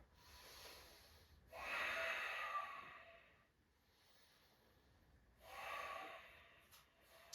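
Slow, deep breaths during a gentle yoga session: two long, soft airy exhales a few seconds apart, close and quiet, with still pauses between.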